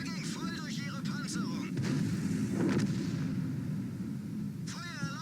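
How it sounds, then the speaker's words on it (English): A tank cannon fires in World of Tanks, a dull, rumbling boom near the middle of the clip, set against a continuous low engine drone while someone talks over it. "another shot right into the front of him."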